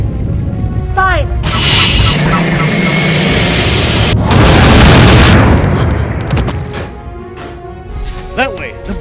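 Weapons fire and heavy explosions in a space combat video game, with loud booming blasts and roaring engine rushes over several seconds, while radio-style voices talk over the action.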